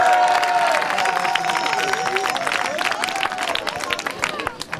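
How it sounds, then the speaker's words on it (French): A crowd applauds and cheers prize-winning youth teams at the Paroisse Cup tournament in Braine-l'Alleud, Belgium, dense clapping and voices filling the space with a steady, loud wash and some whistles. "on peut les applaudir"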